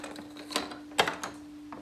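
Small tool clicks and ratchet-like ticks as a terminal on a Ram 1500 AGM battery is tightened, a few soft close taps spaced irregularly over a faint steady hum.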